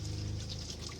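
A weak, thin trickle of water runs from the tap of a Winnebago Micro Minnie FLX RV with low water pump pressure, a close, steady, soft splash over a low pump hum.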